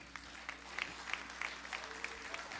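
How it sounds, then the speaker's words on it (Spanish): A church congregation claps in praise during a Spanish-language service, a short burst of quick, fairly even applause from a modest crowd heard at moderate distance. "¿Cuántos le pueden dar un aplauso al Señor?"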